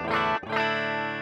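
An electric guitar played through a Valeton Dapper multi-effects pedal with amp emulation switched off, giving a buzzy, distorted sustained chord that is briefly cut and then struck again, loud and close.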